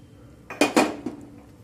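A spoon stirs sweet corn tomato soup in a pot just after cornflour is added, making a few close metallic clinks and knocks against the pot in quick succession, followed by a softer tap.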